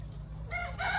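Chickens at a crowded poultry shop, clucking and crowing, one call rising clearly at mid-distance over a low steady hum and shop background, with no talk.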